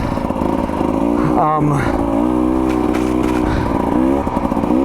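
A 2024 KTM 300 XC-W two-stroke dirt bike lugging at low revs up a steep, loose slope, a close, loud, steady grunting engine with slight pitch swells, while a rider talks over it.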